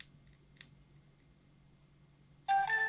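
A quiet room hum with faint ticks, then a short, bright electronic chime of descending tones plays from a DJI Osmo Action camera's small speaker as it shuts down near the end.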